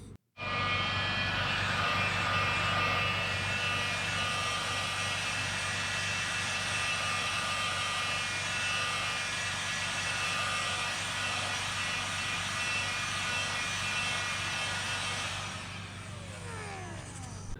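Continuous airy whirring blast of a hair dryer drying structural paint close by at steady volume, cutting out near the end.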